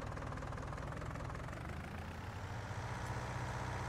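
A tractor engine idles in Farming Simulator 19, a steady low rumbling drone with an even, slightly knocking pulse that holds at a constant level throughout with no voices.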